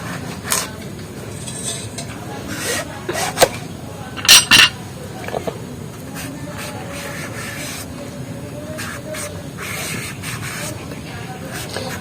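A knife peels the thick skin from a papaya and cuts it, making intermittent close scraping and clicking strokes with a few sharper knocks, over a low steady background hum.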